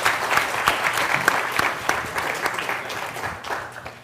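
Audience applause at an entertainment industry panel, dense steady clapping from a sizable crowd that gradually fades toward the end, with no talk over it.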